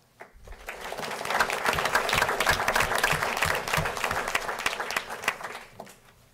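Crowd applause at a township council meeting honoring community volunteers: a full, steady round of clapping that swells quickly, holds for several seconds and then tapers off.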